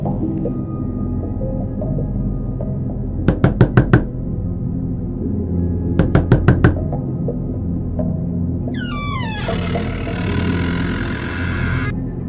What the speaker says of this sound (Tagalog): sunod-sunod na katok ang kanyang narinig